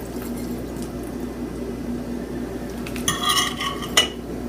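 A spatula scrapes and clinks against a pan and plate while cooked beef for stroganoff is lifted out, giving a brief burst of metallic scraping and a single sharp clink over a low, steady kitchen hum.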